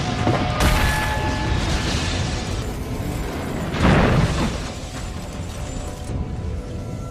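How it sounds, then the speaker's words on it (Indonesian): A bomb goes off in a film scene: one loud, full-band blast, then a rumbling burst a few seconds later, set against a steady bed of dense background noise and debris, with no speech. "Tiba-tiba sebuah bom meledak di tempat itu."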